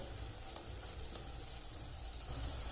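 Grated fresh coconut sautéing in a pan for kheer gives a steady, soft sizzle and faint scraping stir, fairly quiet and continuous with no voices.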